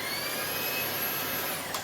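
An upright vacuum cleaner runs close by with a loud, steady whirring roar and a high motor whine, unbroken and without talk.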